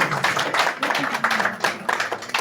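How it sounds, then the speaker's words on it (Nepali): Guests clap together at a Nepali wedding engagement ceremony, a dense run of quick, fairly loud claps lasting a couple of seconds with little else in the room. "ताली बजाइदियो।"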